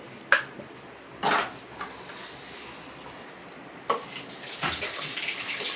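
Mustard seeds and cumin dropped into hot oil for spicy Pallipalayam chicken give sharp pops, then build into a steady, close sizzling hiss.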